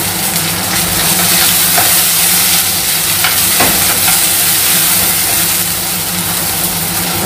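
Curry leaves spit and sizzle as they drop into hot oil, a bright, dense crackle that holds steady from start to finish at close range with no talking.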